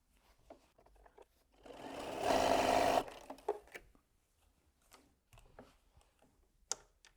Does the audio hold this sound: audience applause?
no